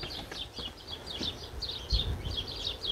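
In a rear garden, birds chirp and sing at a soft level with steady repeated calls, over a quiet outdoor background with some low rumble.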